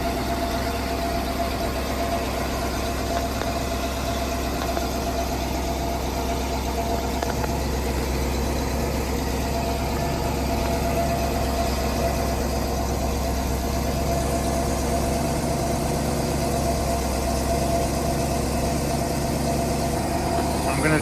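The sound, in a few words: twin OMC 460 boat engines idling, Sea Ray Pachanga 32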